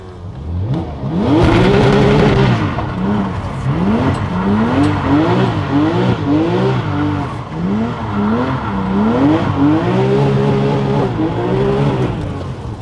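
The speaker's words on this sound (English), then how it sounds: "So we've just made some donuts on a GT3." A Porsche GT3 doing donuts: the engine revs loudly and repeatedly in rising and falling surges, rhythmic swoops of throttle close to the listener, with a hint of tire scrub beneath.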